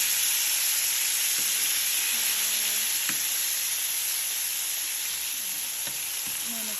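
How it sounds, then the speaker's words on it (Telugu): Ghee heats in a pan and sizzles with a constant, fairly loud frying hiss, broken by a few light clicks and scrapes of a utensil. "సో ఇది కొంచెం వేడెక్కి నేనైతే గీ వేసుకున్నానండి"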